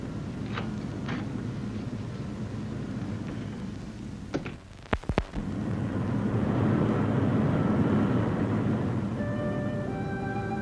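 A steady, droning airplane engine roars at an even level in a vintage radio mystery drama, briefly interrupted by a few sharp clicks midway before the drone swells again, with a faint tonal cue near the end.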